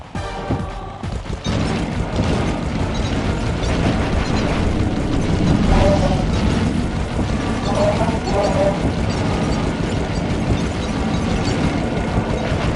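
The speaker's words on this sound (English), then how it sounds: "My missiles don't hurt him but seem to create holes in his armor." In a Sly Cooper video game boss fight, missile blasts and mechanical clanks layer into a loud, dense stream of bursts and crashes alongside game music, with a character voice speaking over it.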